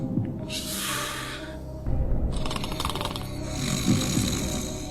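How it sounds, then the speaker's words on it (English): A man snores with rough, rasping breaths amid a busy indoor background, the sound rising louder partway through and continuing steadily. "Snoring like someone's grandfather."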